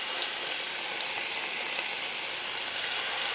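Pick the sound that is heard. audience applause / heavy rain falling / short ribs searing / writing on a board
short ribs searing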